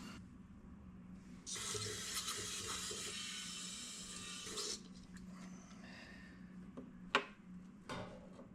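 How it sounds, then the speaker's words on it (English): Water runs for a few seconds from a tap or spray, rinsing out a part from the carburetor of a Craftsman lawn mower. A faint hiss follows, then a few small clicks and knocks. "I want to try to rinse some of that out."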